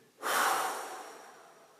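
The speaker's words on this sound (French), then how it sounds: "J'inspire. J'expire, je vide." A single long, breathy exhale during a breathing exercise starts abruptly and fades slowly over about a second and a half. It is close and soft, with no talking.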